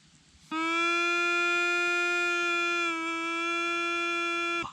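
A pipe made from rice straw is blown in one long steady reedy note, bright and buzzy with a slight dip in pitch near the end, loud and close with no talk.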